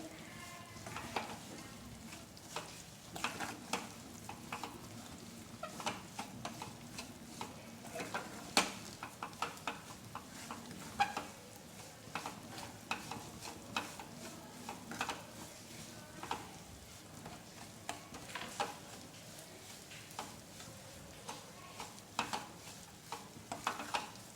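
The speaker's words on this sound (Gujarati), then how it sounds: "હવે બધું જ મિક્સ કરતાં સારી રીતે શેકી લઈશું લોટ સાથે" Flour and grated coconut roasting in a pan for a sweet fasting dish, stirred with steady scraping and faint sizzling, soft, close and continuous with irregular clicks of the spoon.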